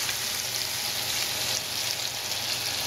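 Ginger and pork sizzling in a hot pan for fried rice, a steady dense crackle of frying at moderate volume with no voices.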